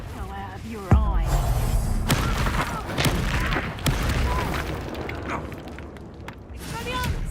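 Confringo fire spell blasts in Hogwarts Legacy, a sudden booming burst followed by rumbling impacts and crackling debris, with game voices and combat noise mixed throughout.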